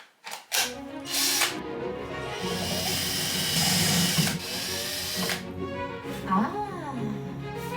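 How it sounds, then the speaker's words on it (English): Small drill bit boring holes into the back of a paper maché storage piece during an art room makeover, with a high whirring motor in several short bursts and pauses, close and fairly loud, plus bits of handling noise. "drill some holes into the back of it so that I can screw it into the wall"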